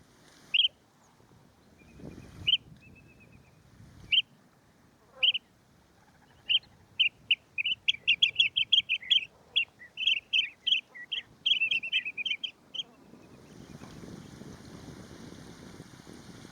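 Lesser Sand-Plover calling in Thailand: scattered short chirps, then a rapid run of trilling notes, fairly near over faint low rumble, with a steady background hiss toward the end.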